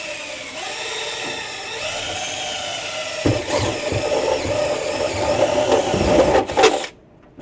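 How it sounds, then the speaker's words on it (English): A power drill bores a hole with a step bit while a DC air conditioner is being installed. A thin, steady whine builds into a louder, rougher grinding after a few seconds, then stops abruptly. "go ahead and drill a quick hole and use the old handy step"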